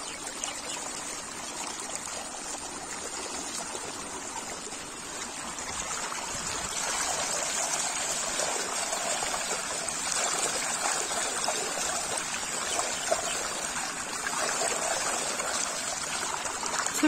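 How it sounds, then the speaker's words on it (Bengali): Water streams and trickles steadily into a rice paddy planted with seedlings, a continuous close rushing flow that swells slightly partway through, with no voices. "আর এই যে পানি আসছে।"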